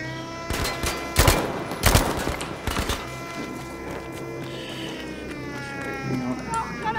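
Gunfire in the World War II shooter Battlefield V, with sharp broadband bursts around the second mark, then quieter scattered shots, while a player talks over the game sounds.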